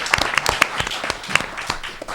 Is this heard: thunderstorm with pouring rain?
no